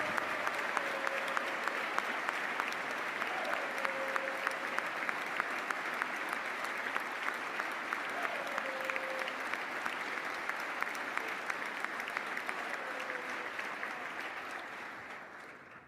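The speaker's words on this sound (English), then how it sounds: "Somebody had to get more applause than Max." Steady audience applause fills a hall during a governor's State of the Commonwealth speech, a continuous even patter of many hands heard at moderate distance before fading out at the end.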